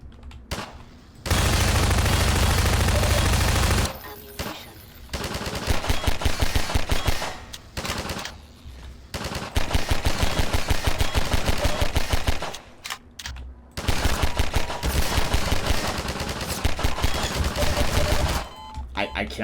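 Sustained automatic gunfire from Half-Life 2: Episode One rattles in long loud bursts separated by short pauses, with a heavy low-end blast early on and a player's voice talking over parts of it.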